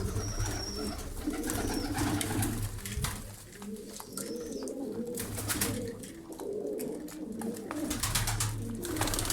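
Soft, low cooing from several birds continues throughout, overlapping with occasional faint chirps and a light background hum.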